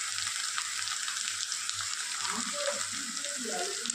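Cumin, coriander and chilli powder fry in hot oil with a steady, bright sizzle, close by and fairly loud, while a spoon stirs now and then in soft scraping strokes.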